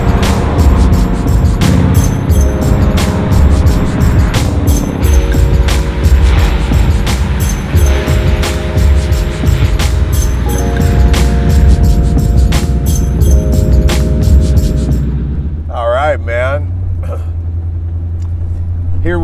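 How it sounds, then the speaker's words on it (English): A 1939 Ford hot rod engine runs steadily and loud, revving and shifting through gears as it cruises, then settles to a lower idle-like rumble near the end. "Here we go for a cruise in Nino's just incredibly beautiful 39 Ford."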